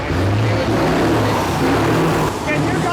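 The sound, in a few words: truck engine revving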